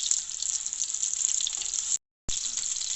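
Chicken seekh kababs fry in oil over a medium flame, giving a steady, close sizzle and crackle that cuts out briefly for a moment and then resumes.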